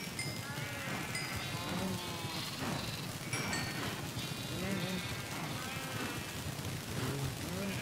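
Sheep in the Minecraft video game bleat repeatedly in a dense, overlapping chorus, with several calls layered over a steady busy background that runs throughout.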